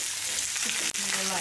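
Chicken pieces browning in a hot pan for a pot roast, with a steady close sizzle and a small stirring clatter near the end.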